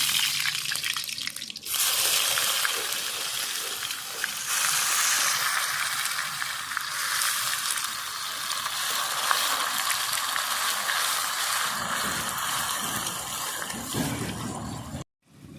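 Onion paste made from two onions hits hot oil for a jackfruit curry and bursts into a loud, steady sizzle that keeps crackling close up, then cuts off at the end.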